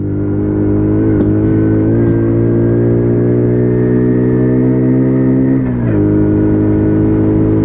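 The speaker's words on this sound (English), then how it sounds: "So you really have to rip the throttle open on these, and it's the same for all bikes that are 50cc" A WK Colt 50cc motorbike engine buzzes steadily on a test ride, a close, constant high whine held near full throttle that dips briefly near the end as the rider eases off, with no talking.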